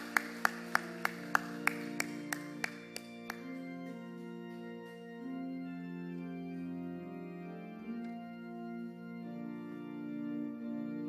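A church congregation claps during a Sunday service, about a dozen crisp, evenly spaced claps over a few seconds. Sustained organ-like music then carries on alone.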